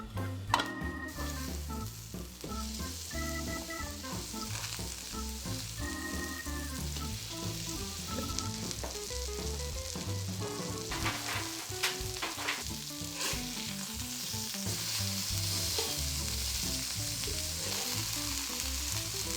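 Beef burger patties fry in a pan with a steady, close sizzle lasting throughout, overlaid by tonal background music.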